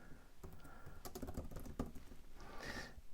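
Keystrokes on a computer keyboard as a command is typed, a quick uneven run of clicks close by with brief pauses between bursts.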